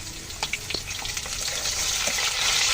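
Potatoes and a little turmeric sizzling in a pan, a steady frying hiss that swells gradually, with a few soft clinks and stirs near the start.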